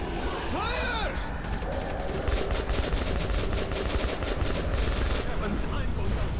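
Gunfire in the Metro 2033 Redux video game: rapid, sustained automatic bursts with crashing impacts, loud and continuous under a roaring game soundscape, with a voice shouting briefly near the start.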